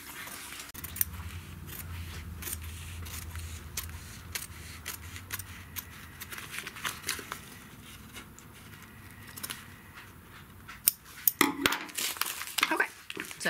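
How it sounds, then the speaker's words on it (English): Scissors snip and crinkle through stabilizer material being trimmed from a fabric belt bag, with quiet, scattered cuts and rustles under a low hum, then a brief louder clatter near the end. "trim just the stabilizer away from the bag, being careful not to cut the bag"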